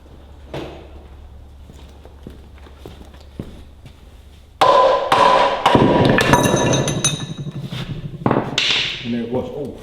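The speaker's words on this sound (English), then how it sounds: "I might get a soft hammer and give it a few whacks." A run of sharp thuds from a soft hammer striking a stuck metal part on a TEA20 engine, a few quiet taps first, then heavier whacks with clanks and rattling.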